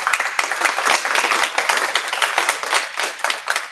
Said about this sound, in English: So again, a round of applause for that.